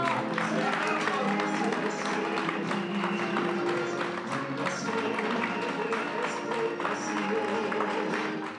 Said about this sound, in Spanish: en medio de aplausos de todos los presentes